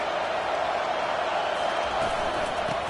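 A football stadium crowd roars against the visiting offense, a steady distant wash of cheering and noise with no clear breaks, heard alone without talk.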